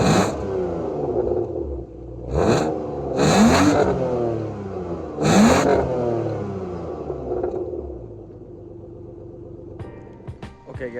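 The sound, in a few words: BMW E36 engine started and revving, stock exhaust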